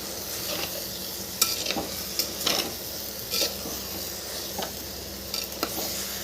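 Stirring greens with onion and tomato in a clay pot, scattered scraping and clinking strokes, irregular, over a faint steady sizzle, close up.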